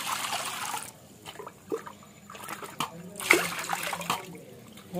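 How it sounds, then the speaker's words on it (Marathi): Cold water poured over an item to rinse it clean, an irregular trickle and splash with soft sloshing, close and fairly quiet. "थंड पाणी टाकून पट्टापट साफ करून घेऊया याला"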